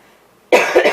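One sudden, harsh cough bursts out close and loud after a near-silent moment, ending in a short second hack.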